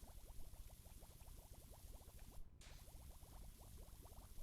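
Cleaner foam bubbling from a pressure washer in PowerWash Simulator makes a faint, rapid stream of tiny popping bubbles, steady and quiet throughout with one brief gap midway.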